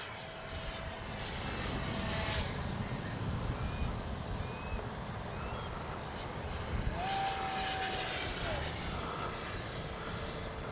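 A Freewing T-33 80mm RC model jet whines steadily overhead, its high turbine pitch rising and falling as it passes, over a constant roar of wind and airflow.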